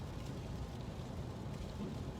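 Rain and road noise heard inside an electric Chevrolet Bolt driving on the highway in cold, wet weather, a steady low rumbling wash with no talking.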